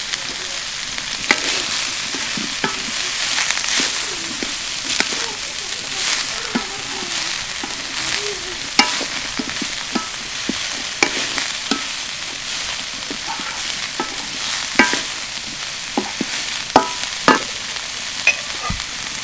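Winged beans fry in a pan with a constant sizzle, punctuated by frequent sharp scrapes and clacks of a spatula stirring them, close and moderately loud throughout.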